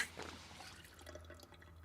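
Faint liquid dripping and trickling as a character drinks water in the zombie survival game Project Zomboid, with a low steady hum underneath.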